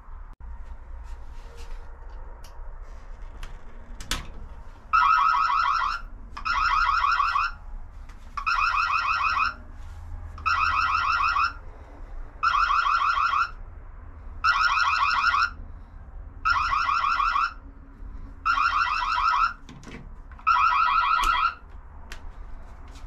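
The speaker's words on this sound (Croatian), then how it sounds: "Uključit ću alarm protiv krađe zvona." An Annke smart video doorbell's anti-theft alarm sounds as nine loud, evenly spaced electronic beeping bursts, each about a second long with short gaps, over a quiet background and with no talking.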